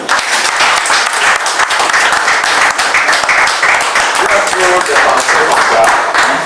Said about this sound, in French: Il faut applaudir à Jésus.